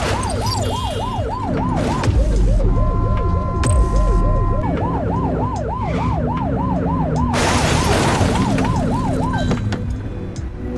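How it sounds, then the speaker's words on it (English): A police car siren in the video game The Precinct wails in a continuous fast warbling cycle, loud and close over engine and traffic noise, with brief changes in tone partway through. "Get on their tail and flip the siren."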